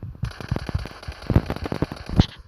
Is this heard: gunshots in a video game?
yes